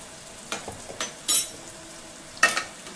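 Ginger garlic paste cooking in hot oil in a pan for a prawn and brinjal curry, with a few quiet stirring scrapes and brief spoon clinks against the vessel over a faint background.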